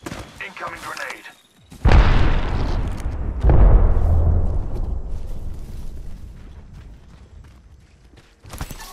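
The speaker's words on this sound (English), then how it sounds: "Incoming grenade." A grenade blows up in a video game: a sudden loud, booming blast that rolls into a second heavy burst before slowly fading, heard mostly alone.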